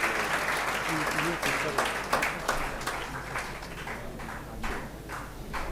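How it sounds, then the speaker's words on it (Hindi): Sustained audience applause welcoming a guest at a motivational seminar in Begusarai, Bihar: dense, steady clapping from a large crowd, filling the whole stretch at even loudness with a few sharper claps standing out. "तो हम जोरदार ताली से इनका भी स्वागत करेंगे"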